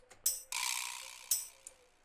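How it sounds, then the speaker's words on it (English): A few short metallic jingles and a sustained shimmering rattle, bright and close, with brief pauses between hits, like a small tambourine being shaken and struck. "Little tambourine."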